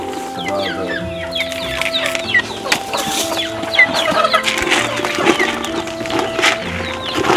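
Chickens cluck busily at feeding time, with a steady chorus of overlapping clucks and calls at close range and a faint voice now and then in the background.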